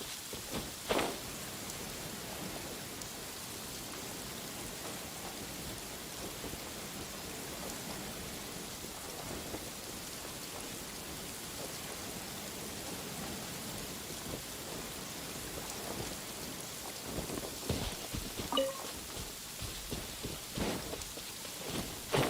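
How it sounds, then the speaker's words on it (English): Steady downpour in Genshin Impact, a dense continuous hiss of rain on surfaces with low thunder rumbling underneath, even and enveloping throughout, no voices. "Taking a stroll in the middle of a downpour certainly rouses the spirit."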